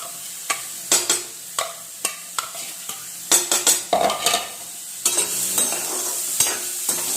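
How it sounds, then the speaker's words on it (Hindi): A chopped onion, garlic, green chili and ginger masala fries in a pan, with repeated sharp spatula clacks and scrapes against the metal over a steady sizzle. "भून लूंगी मैं मसाले को अच्छे से, गुलाबी गुलाबी सा हो जाए।"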